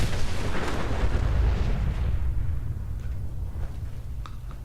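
Grenade explosions in the Fallout video game, a heavy rumbling blast that booms loudly at first and then fades into a decaying low roar, with a few faint clicks near the end.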